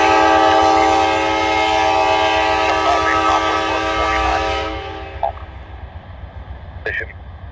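Amtrak passenger train rolling through downtown El Paso, Texas, its horn sounding in long steady blasts for several seconds before fading, with a couple of short sounds after; a voice speaks briefly nearby.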